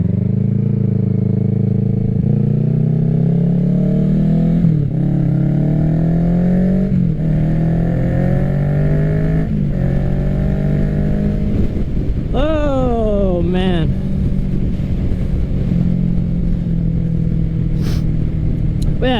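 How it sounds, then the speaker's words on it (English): A 2024 Kawasaki Ninja 650 motorcycle with a new M4 exhaust is ridden, its engine droning loud and close with repeated rising revs and gear shifts, sharp rev climbs near the end, and steady wind rush behind it. "I've been wearing earplugs a lot lately, and today I'm not, so I can hear my bike a lot louder."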